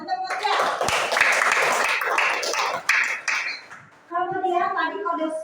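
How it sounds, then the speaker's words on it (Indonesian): Classroom of children clapping for a classmate, a brisk burst of applause lasting about four seconds before a teacher's voice resumes. "Tepuk tangan untuk Mutia."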